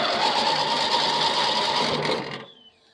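A 1991 Murray 40624A6 riding mower engine cranks on its starter with a fast, steady whirring chatter that fails to catch, then winds down and stops after about two and a half seconds.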